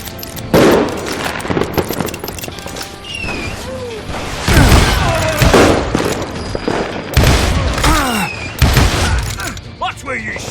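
Gunfire in the Western shooter Call of Juarez: Gunslinger, with repeated loud, sharp shots and ricochet-like whines arriving in irregular clusters, mixed with crashes and impacts, and voices speaking between the shots.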